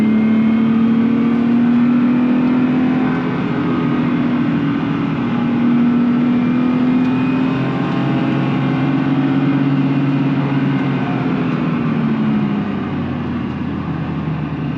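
A race car accelerates hard on the Nogaro circuit, its engine droning loud and close from the cabin. The pitch climbs and wavers through gear changes across the whole stretch, with no talk over it.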